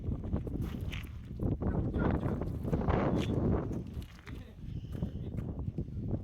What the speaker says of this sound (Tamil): நல்லா காற்றடிக்குது சூப்பராக